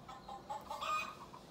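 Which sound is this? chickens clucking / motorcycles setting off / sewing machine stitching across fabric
chickens clucking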